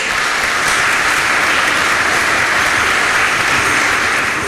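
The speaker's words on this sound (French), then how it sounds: "Vous pouvez les applaudir." Steady, dense applause from an audience at a church profession-of-faith ceremony in Reichstett, loud and sustained throughout with no speech over it.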